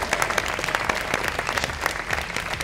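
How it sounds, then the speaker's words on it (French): An audience claps warmly for a guest at a Quebec French-language interview event, brisk overlapping applause with a few louder individual claps standing out. "On l'applaudit"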